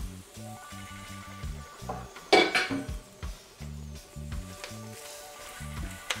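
Shrimp shells and coconut milk go into a Jamaican curry pot over medium heat, making a short clatter and brief sizzling splash midway through, set against steady background music with a thumping bass line.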